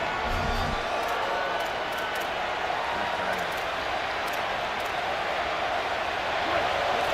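A college football stadium crowd roars in a dense, steady wash of cheering that fills the clip from start to finish, loud and continuous with no breaks.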